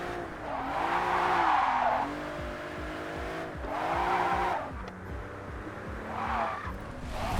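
A car drifts through a corner in a JDM street-racing game, with a loud engine revving and shifting under long, wavering tire squeals that swell and fade in several bursts.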